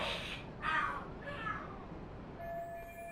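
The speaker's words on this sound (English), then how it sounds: "Are there cats fighting? What are they screaming for?" Cats fight and scream in the video game Lost Judgment, three loud yowling caterwauls in quick succession, harsh and close, fading into quieter background tones.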